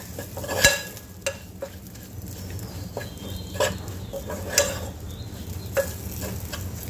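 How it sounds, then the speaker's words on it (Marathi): Spices with green chillies and coriander powder frying in a pan for udad dal ghuta, a soft continuous sizzle with several distinct spatula taps and scrapes spaced a second or so apart. "छान परतून घ्यायचं आपल्याला मसाले"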